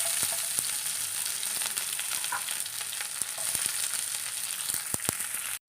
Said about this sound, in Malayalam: കുറച്ച് ചെറിയ ഉള്ളി അരിഞ്ഞിട്ട് കൊടുക്കാം,